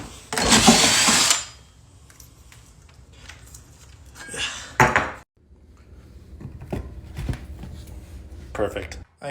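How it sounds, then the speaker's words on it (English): An electric drill bores into a shower wall during a bathroom remodel, giving a loud burst of whirring near the start followed by quieter handling clatter and shorter tool bursts. "I'm using my big drilly drill."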